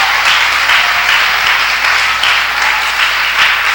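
A church congregation gives loud, sustained applause that fills the whole moment, with dense clapping and no talking.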